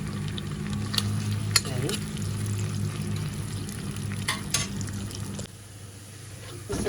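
Sliced onion sizzles and fries in hot oil and butter in a pan, a steady crackling hiss with occasional stirring scrapes, while someone speaks briefly over it.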